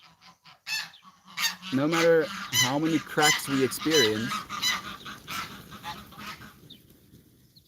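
Geese honk loudly in a quick run of harsh, nasal calls that bunch together and then trail off, with a voice speaking briefly nearby.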